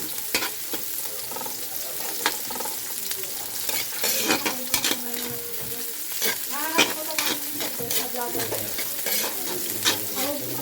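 Onions frying in a pan for a Filipino home-cooked dish, crackling sizzle with frequent clattering stirs and scrapes of a utensil against the pan, loud and close, no speech.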